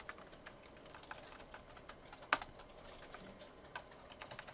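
Quiet computer keyboard typing in a classroom setting, a steady patter of light key clicks with one sharper tap midway, no talking.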